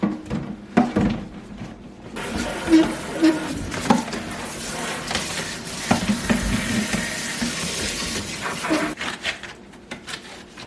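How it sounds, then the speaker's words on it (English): Tap water runs into a kitchen sink while plastic Dollar Tree baskets are washed. There is an uneven rushing splash broken by scrubbing, rubbing and knocking of the baskets, close by with no talk. "I need to wash out the baskets that were in there before"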